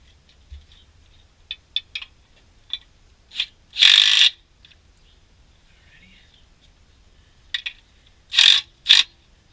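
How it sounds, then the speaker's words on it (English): A hand ratchet tightens pressure plate bolts on a 2013 Subaru clutch install, giving short bursts of rapid clicking with quieter isolated ticks and pauses between, close by in a quiet garage. "I'll finish it off with a ratchet."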